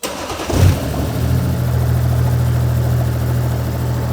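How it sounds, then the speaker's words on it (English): An L83 V8 engine in a Land Rover Defender 90 cranks and catches with a loud burst, then settles into a steady, deep rumbling idle close by. "fire it up"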